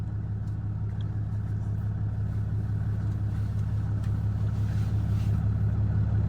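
A car engine with an FTI Sniper gearbox idles steadily, a constant low rumble held close and unbroken as it builds toward takeoff.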